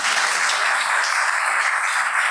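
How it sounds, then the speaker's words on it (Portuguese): A church congregation applauds a missionary couple serving in Turkey, a steady dense wash of clapping that holds evenly throughout, fairly close and moderately loud, with no voices over it. "Podemos aplaudi-los por isso."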